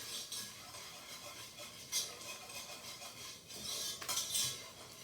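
Chocolate icing stirred in a pot just off the heat, with soft scraping and occasional light clinks of a utensil against the pot, faint and close.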